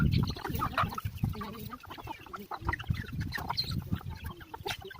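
Chickens cluck and squawk busily close by, a dense, continuous flock chatter with overlapping calls.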